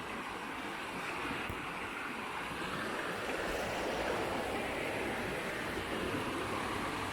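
The River Derwent rushes along in the rain, a broad, steady roar of flowing water mixed with rain hiss and some wind buffeting the microphone, continuous and fairly loud.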